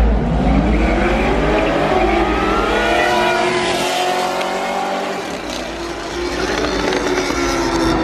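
Motorcycle drag racing a Corvette at a car meet, with loud, close engines revving hard and rising in pitch as they accelerate, a brief dip midway, then roaring on with crowd noise around.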